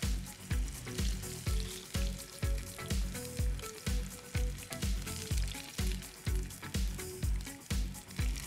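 Floured sand smelt fry in a pan of oil, giving a loud, close sizzle that swells in regular pulses about twice a second. No one talks over it.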